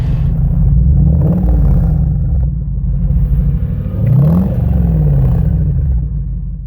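A Jaguar XKR 4.2 V8 engine revs twice, the throttle blips rising and falling over a loud rumbling idle, recorded close by without talk.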